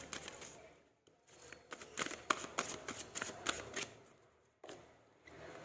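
Tarot cards from a psychic deck being shuffled, giving a run of quick papery riffles and flicks at close range with brief pauses between bursts and no talking.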